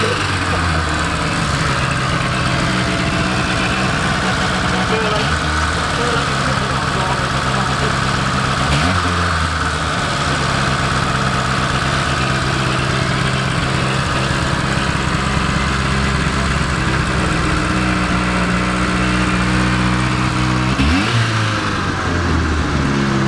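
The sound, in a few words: Rover engine exhaust note, idling and revving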